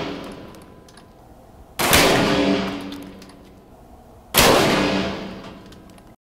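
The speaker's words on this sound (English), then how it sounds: "Let's head out to the range and see what this gun does." Two sharp, loud reports from a Seneca Dragon Claw II air rifle with a Mantis 3-9x40 scope at an outdoor range, a few seconds apart, each ringing out with a long decaying tail.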